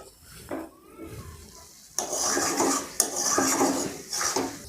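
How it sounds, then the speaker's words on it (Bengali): A metal spatula scrapes and clanks against a wok while pui shak greens are stirred and fried, rhythmic close scraping strokes over a soft sizzle. "এরপর খুন্তি দিয়ে খুব সুন্দর করে এইভাবে উল্টে পাল্টে নাড়তে থাকুন এবং ভাজতে থাকুন লাল করে।"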